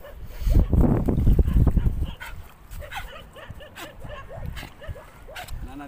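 Dogs bark and yip excitedly near a beach, loud at first and then settling into scattered whimpering yelps, with people talking nearby.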